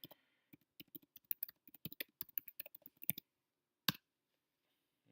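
Laptop keyboard typing into a browser search bar: a quick run of light, irregular key clicks for about three seconds, then a pause and one sharper tap, close and clear with no talking.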